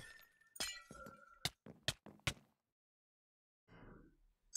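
Glass blocks shatter in Minecraft as several sharp, bright breaking crashes in quick succession, then silence before a faint rustle.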